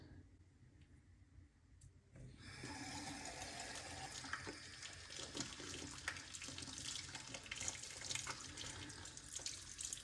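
Warm tap water gushes from a faucet into a sink for rinsing during a wet shave, starting abruptly after two quiet seconds and then pouring steadily and evenly, moderately close, with no talking.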